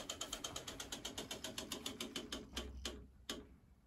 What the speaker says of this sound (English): turning the fuel pump on